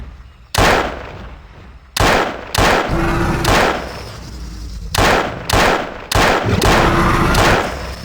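Gunfire in the game Trespasser: a series of loud, sharp shots with irregular spacing, some close together, each followed by a brief echoing tail.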